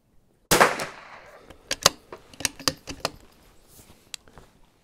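Gunfire at an outdoor shooting range: one loud near shot followed by a string of sharp reports at irregular spacing, some close and some fainter from other shooters.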